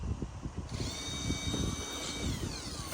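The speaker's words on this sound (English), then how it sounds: "What you drilling now?" A power drill whirs at low volume, its motor pitch rising and shifting while it bites into material, heard faintly from some distance with no talk over it.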